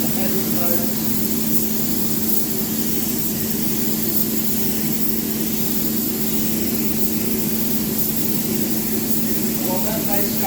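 A spray gun applies a yellow metallic base coat onto a wet surface in a steady, unbroken hiss that holds at a constant level throughout, with a low hum underneath.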